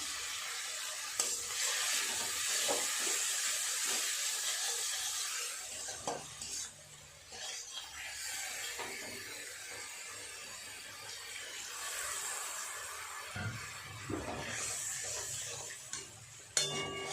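Ground spices (chilli, cumin, coriander powder) with salt being stirred and fried in a pan for a paneer-style flour vegetable dish, a steady sizzle with scraping stir strokes, close and continuous, no talking.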